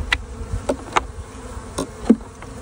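Honeybees at a beehive give off short, scattered buzzes as individual insects pass near, faint against quiet surroundings with no voices.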